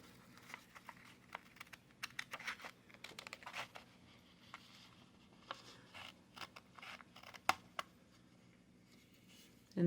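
Scissors snip through a paper T-shirt pattern piece, a run of quiet, close, irregular cuts and crinkles against a faint steady hum.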